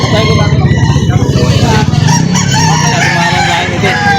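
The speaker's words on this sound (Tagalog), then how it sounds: "Ang gandang manok, ano?" An 11-month-old rooster crows loudly and close by at a chicken market in Lipa, Batangas, its long call rising and falling over steady background noise and some clucking.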